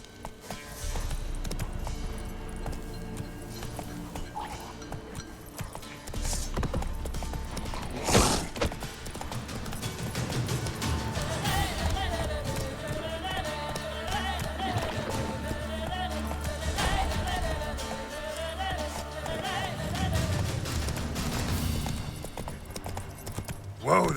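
Hooves of the horse Roach clip-clop in The Witcher 3, a steady trotting rhythm under game music and ambience, with a voice speaking briefly over it.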